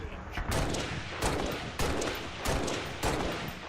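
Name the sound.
DMR rifle gunfire in Halo: Reach video game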